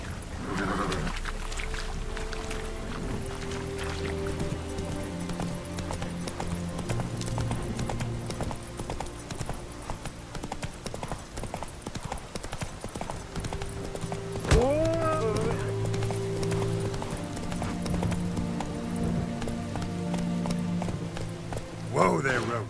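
Geralt's horse Roach galloping in The Witcher 3: Wild Hunt, a rapid, continuous rhythm of hoofbeats over a dense game soundscape with music and ambient effects, a sharp swoop-like cue partway through.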